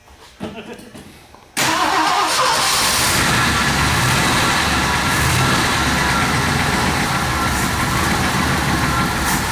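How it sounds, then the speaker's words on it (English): A 1966 Ford Galaxie 500 XL with a 428 V8 cranks and catches after sitting about 30 years, then settles into a loud, steady, rumbling idle close by after a quieter opening second or so. "There's a 428 Ford right there running after 31 years."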